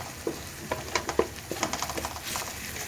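Ginger garlic paste frying with onions in a pan, a soft sizzle carrying a scatter of sharp pops and crackles that come in irregular bursts, close and moderately loud, with no voices.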